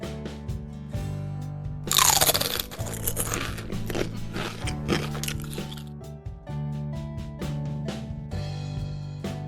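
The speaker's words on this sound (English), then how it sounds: "Americans crunch chips so loudly you can sometimes hear them better than the movie dialogue" Potato chips crunch in loud, crisp bursts, with a heavy run of chewing near the start and lighter bites after, set against a backdrop of music.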